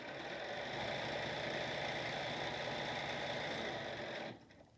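A sewing machine runs fast and steady while stitching a fabric face mask, a continuous close whir that stops abruptly near the end.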